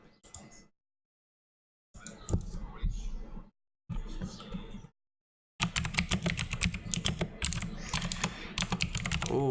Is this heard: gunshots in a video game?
no